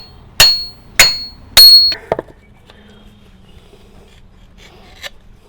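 Trailer wheel bearing parts being tapped out with a hammer, three loud close metallic strikes followed by a couple of lighter knocks, then near quiet and one faint later tap.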